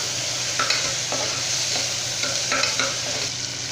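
Tomatoes and onions sauté in a hot pan as the base for a rajma kurma, a steady close sizzle with a few soft stirring scrapes rising above it at intervals.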